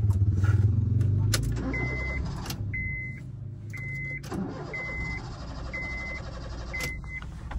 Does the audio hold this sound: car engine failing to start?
yes